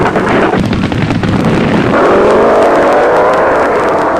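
Drag race launch between Gene Snow's Dodge Challenger, driven by Terry Pringle, and Gabriel and Wagner's Long Beach Pontiac Firebird: a loud, continuous engine roar that shifts to a higher, rising howl partway through, with no talk.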